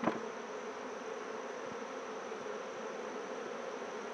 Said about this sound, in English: Oh boy, there's a lot of bees in there now.